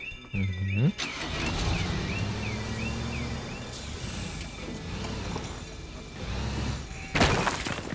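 A car in the video game Teardown drives along with a steady engine hum, then pulls in and parks, with a swell of noise near the end and a voice speaking briefly at the start.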